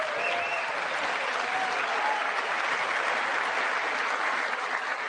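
Sustained applause fills a large legislative chamber during the State of the Union address in Congress, a dense, steady wash of many hands clapping at close range with faint crowd murmur beneath and no pause over the five seconds.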